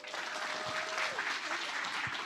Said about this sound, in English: Everyone, please give a big round of applause to Jamie Ravitz.